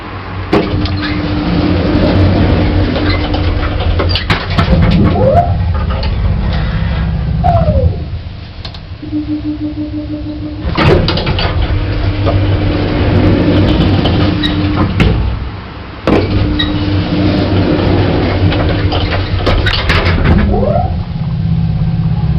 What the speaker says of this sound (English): The next Bennie has really good motor sound.